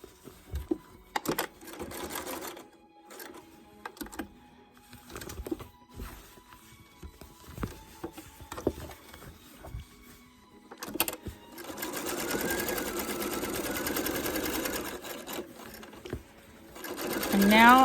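Sewing machine stitching slowly around an appliqué star, starting with scattered single stitches and taps, then settling into a long steady run of close, buzzing stitching.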